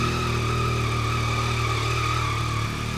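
A Yamaha R9 sport motorcycle fitted with a new Yoshimura exhaust warms up, holding a steady, loud near engine drone with a low, even pulse and no voices.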